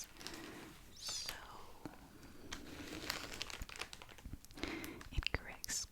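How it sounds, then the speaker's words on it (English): Cotton pads rustle and crinkle inside plastic bags, producing soft, irregular crackles close to the mic with faint whispering underneath. "it creates crinkling sounds that I love so much"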